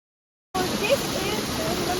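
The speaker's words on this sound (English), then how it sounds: "is one of the waterfalls in Meghalaya, and we are currently at the top" Waterfall in Meghalaya near Sohra, heard from the top of the falls: a steady, broad rushing roar of falling water that begins abruptly and carries on evenly, fairly close, with no talk over it.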